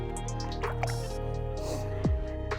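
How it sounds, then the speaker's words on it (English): A large redfish, around 29 to 30 inches, slipped back into the water for release, with light splashes, drips and sloshing over a steady boat engine hum. "Get her back in the water for release."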